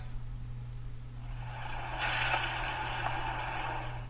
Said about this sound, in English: That's the sound of sizzling, dry-aged USDA Prime Wagyu and Angus steaks